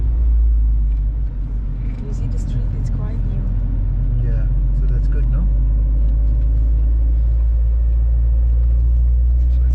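Car engine rumbling steadily while driving along a new mountain road in Switzerland, close and continuous beneath conversation between people in the vehicle.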